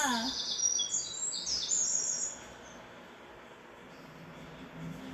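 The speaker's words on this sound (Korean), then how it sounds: "저 푸른 하늘에서는 새들이 아름다운 목소리로 하나님을 찬양합니다." Bright, high bird chirps and warbling trills flutter over a soft ambient hum for a couple of seconds, then fade, leaving a quieter background.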